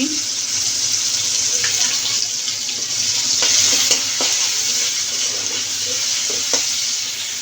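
Cumin seeds and three white cardamom pods hit hot oil in a pan, giving a steady, bright, hissing sizzle that fills the whole stretch, close up and fairly loud, with a few faint knocks and no voice.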